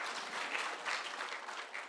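An audience at a community security forum in Migori Town applauds a speaker, a dense, even wash of many hands clapping, moderately loud and continuous without pauses.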